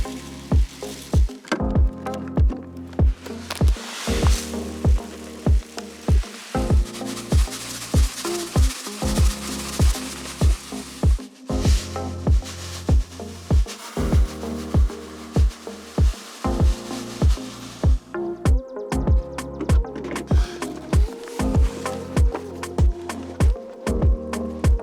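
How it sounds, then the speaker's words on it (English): Several types of clover seed are mixed by hand in a bucket, making a rhythmic, loud, repeated rustling and scraping, with sharp strokes coming every second or so without pause. "we'll mix it in our super nice bucket here and then seed all of this"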